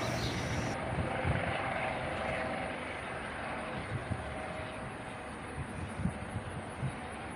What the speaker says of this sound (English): this helicopter came in and landed at the hospital